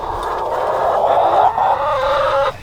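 Backyard chickens, pullets and meat birds, cluck and squawk close by in a loud, continuous run of calls lasting a couple of seconds, with no talking.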